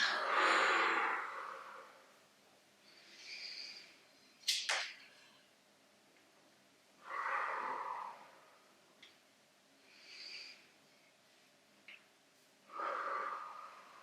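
Slow, deep breaths during a back-and-abdominal workout, each inhale and exhale audible and close, repeating in a calm rhythm with quiet pauses between, plus one short sharp click midway.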